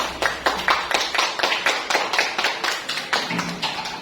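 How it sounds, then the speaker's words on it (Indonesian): Schoolchildren in a classroom clap for a classmate named Nova: a quick, fairly even run of roughly twenty claps, close and moderately loud, with no talking over it. "Oke, tepuk tangan untuk Nova."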